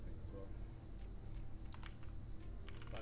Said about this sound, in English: Let me do a test typing as well.